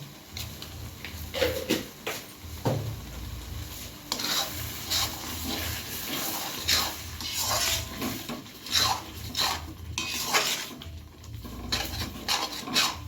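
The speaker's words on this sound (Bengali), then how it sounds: "ততক্ষণ নাড়াবেন যতক্ষণ না তেল বেরিয়ে আসবে এই মশলার থেকে" Spice masala for dum aloo being stirred in a frying pan, with steady close scraping and rasping strokes over a soft sizzle of oil, continuing without talk.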